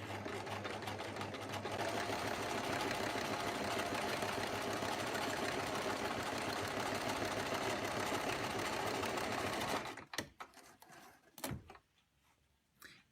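A sewing machine fitted with a ruler presser foot runs a steady row of top stitching along a fabric edge, a continuous dense whirr that stops near the end, followed by a few faint clicks and handling sounds.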